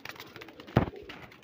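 A single pigeon's brief, soft coo sounds close by among golden pigeons kept for sale in Punjab, with faint bird calls in the background.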